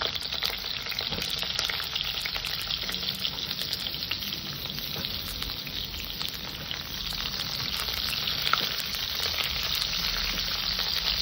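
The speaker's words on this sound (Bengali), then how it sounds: "বেগুন কটাকে সুন্দর করে একটু ভেজে নেব।" Eggplant pieces frying in hot oil with panch phoron spices, a steady bright sizzle and crackle that runs continuously, with occasional stirring scrapes.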